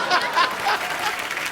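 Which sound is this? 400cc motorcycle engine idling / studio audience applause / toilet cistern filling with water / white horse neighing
studio audience applause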